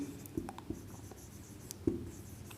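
Pen or chalk scratches out a few short, sparse strokes on a board during a Class 10 maths lesson on triangles, soft and close with quiet gaps between marks.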